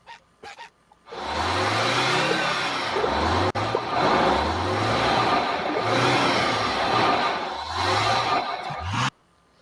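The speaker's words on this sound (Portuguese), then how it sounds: "outro ônibus chega e sai" In a SpongeBob cartoon, a bus engine revs in a series of rising surges as it pulls in and drives away, loud and close with noisy motor roar, framed by brief clicks before and after.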